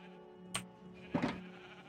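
Sheep in the video game Minecraft bleat twice on a farm, a short call followed by a longer, louder one, both close and clear over a faint steady background hum.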